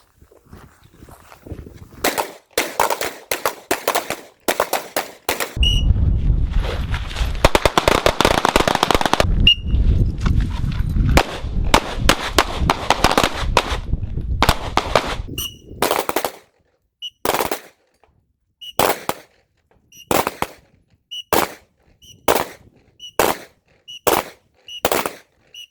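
Rifle and pistol gunfire at an outdoor shooting class in Nunn, Colorado: sharp, loud cracks in scattered bursts, a dense stretch of rapid overlapping shots, then evenly spaced single shots toward the end.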